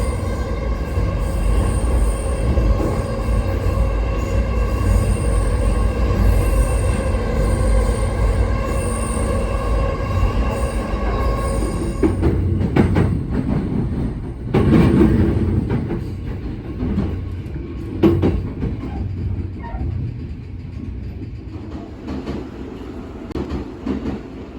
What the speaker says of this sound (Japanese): この電車は内房線快速